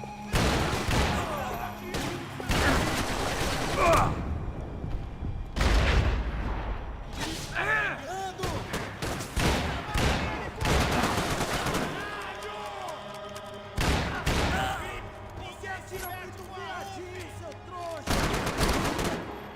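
Gunfire from the video game Max Payne 3 arrives in loud, close bursts of rapid shots and heavy booms, separated by short quieter gaps, with a player's voice talking now and then among the shooting.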